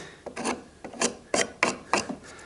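Sharp chisel cutting through knotty timber for a bridle joint, giving five forceful rasping scrapes in a steady rhythm, close and fairly loud with no voices.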